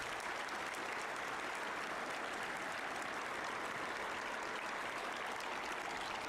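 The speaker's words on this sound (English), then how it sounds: "Let's go ahead and give all of our veterans a round of applause." Distant, fairly faint applause for veterans at a high school Veterans Day ceremony, an even wash of clapping from a large crowd that holds steady with no speech.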